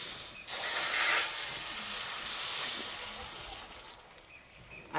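A ladle of potato paratha batter hits a hot kadai with a sudden loud hiss. The sizzle holds for a couple of seconds, then fades to a quieter crackle.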